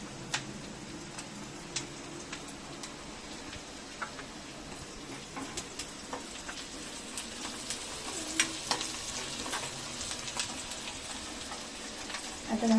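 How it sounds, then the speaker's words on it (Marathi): Shrimp sizzling steadily in a pan while being stirred, with frequent small ticks and scrapes of the utensil against the pan over a constant frying hiss. "हा झिंगा थोडंसं भाजून घेतलं"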